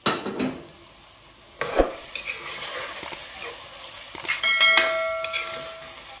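Tomato and green chilies dropped into a hot pot of oil for degi aloo gosht, giving a close, steady sizzle with stirring clatter and a few sharp metallic taps, no talk.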